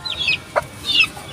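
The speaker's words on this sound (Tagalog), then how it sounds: "Ayun mga sabong." Gamecocks being treated for coryza give a few short, close clucks and squawks in quick succession, with one brief sharper note between them.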